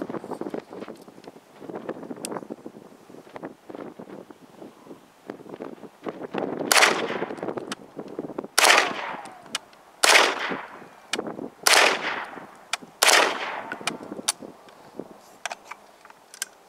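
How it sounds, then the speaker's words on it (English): An ATI Omni Maxx Hybrid AR-410 shotgun fires slugs at a fire extinguisher outdoors, five loud, sharp booms spaced a second or two apart, each with a short rolling echo, over wind noise. "So now I've got another 5 slugs I'm gonna empty into that fire hydrant, or extinguisher rather."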